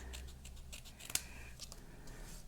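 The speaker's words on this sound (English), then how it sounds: "So just taking a pair of scissors, I'm just going to trim that back." Quiet snipping of scissors cutting paper, a few soft cuts with one sharper snip in the middle, over faint background hum.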